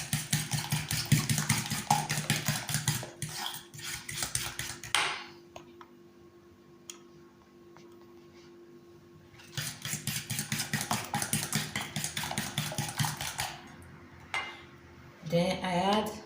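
Four spoons of sugar being mixed in a bowl for Italian castagnole, with bursts of rapid, rhythmic whisking scrapes close by, a pause with a low hum between them, and a voice briefly speaking near the end.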